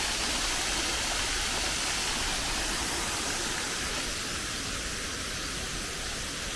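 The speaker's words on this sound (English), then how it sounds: "That's the waterfall." A waterfall near a temple in Chiang Mai rushes steadily, a broad, even wash of falling water heard alone at moderate level.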